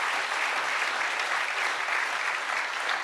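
An audience at a trades skills competition event claps in dense, steady applause, a broad wash of many hands at moderate distance, sustained evenly throughout with no voices standing out.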